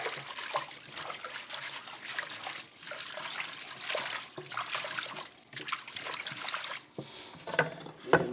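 Collard greens being scrubbed together by hand under running water, a steady trickle and splash with wet rubbing and squelching bursts, close and moderately quiet.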